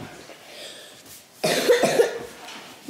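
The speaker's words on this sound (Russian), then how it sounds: "Ну что ты кашляешь?" A person coughs once, a short, fairly loud burst close by, after a stretch of quieter room sound.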